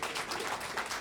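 Audience clapping at a Norfolk County mayoral and ward candidates' debate: a short, close burst of many hands applauding for about a second.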